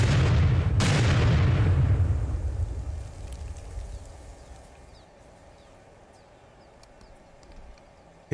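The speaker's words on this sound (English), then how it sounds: "It worked. Miss Marple's mine is destroyed" A landmine set off by a demolition charge on a 3-minute fuse bursts in one loud, deep boom that rumbles and fades slowly into the distance, with no voices heard.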